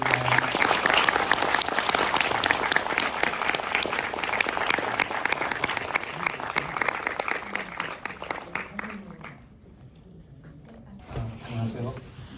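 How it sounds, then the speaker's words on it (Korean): Sustained applause from a film festival audience welcoming a director to the stage, dense and steady, then fades and thins out near the end. "박수로 우리 고혜 감독님 무대로 모시겠습니다"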